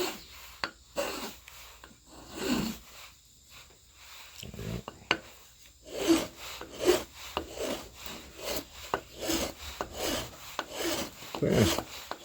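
Hand file rasping a mulberry wood hammer handle in repeated back-and-forth strokes, close and fairly quiet, with a few sharp taps of the file between bursts of stroking.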